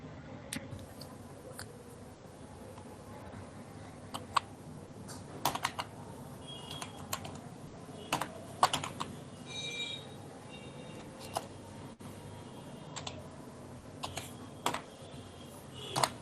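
A company name is typed on a computer keyboard during software training, giving irregular clusters of light, close key clicks separated by short pauses over quiet room hum.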